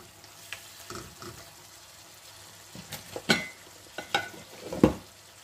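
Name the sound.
fish pieces added to sizzling bean masala curry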